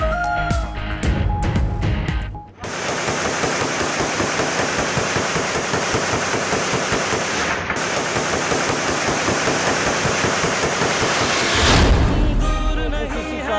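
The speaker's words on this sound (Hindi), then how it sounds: "हवाई फायरिंग होती रही।" Aerial gunfire at an election victory celebration: a loud, continuous barrage of rapid shots rattles without a break for about ten seconds, with a brief pause before it and a crackling burst after.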